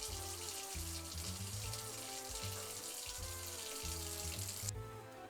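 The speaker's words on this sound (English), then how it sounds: "you're gonna pour just a little bit of water in here to make sure that the berries don't burn" Water poured into a pot of berries for homemade jam, a steady gushing stream with a low tonal hum underneath, close and continuous before cutting off near the end.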